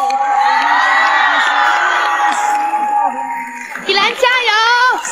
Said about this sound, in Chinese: 热烈掌声欢迎我们十六号男嘉宾